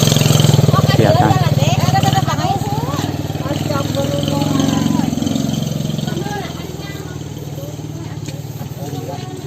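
A motorcycle engine runs close by in a rural village, a steady mid-pitched drone that slowly fades, with people talking over it.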